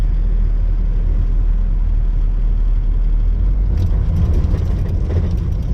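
A 2000 Nissan Frontier XE truck drives steadily, its engine and road noise forming a continuous loud low rumble, with a slight change in texture toward the end.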